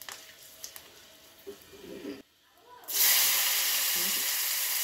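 A dried red chilli and panch phoron five-spice seeds hit a little hot oil in a pan, bursting into a sudden loud, steady sizzling hiss after a moment of quiet, close and continuous.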